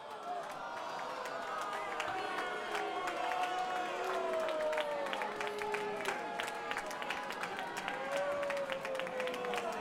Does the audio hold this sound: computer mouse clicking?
no